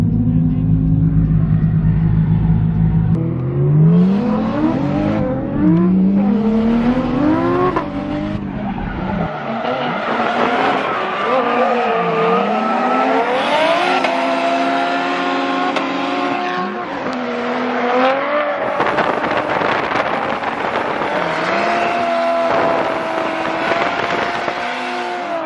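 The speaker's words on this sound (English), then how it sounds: "Adam's driving the Chaser, but he also has his 350 here, just in case" A Toyota Chaser drift car at a drift event revs hard, its engine pitch sweeping up and down, while tires squeal and skid continuously. The sound is loud and close throughout.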